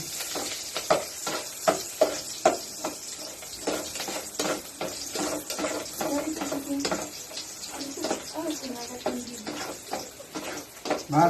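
Garlic sizzles and crackles in a hot pan while being stirred for papaitan, a continuous frying hiss broken by frequent sharp clinks and scrapes of a utensil, close and fairly loud, with occasional talk in the background.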